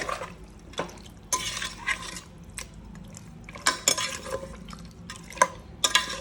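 Metal utensil scraping and clanking against a pan with a soft sizzle underneath as donne biryani ingredients are fried, irregular stirring strokes close by, no voices.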